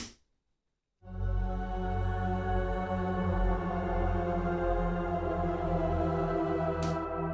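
After a second of silence, a sustained choir chord from the Foundations Emotive Choir virtual instrument swells in and holds steadily, smooth and warm, with no talking.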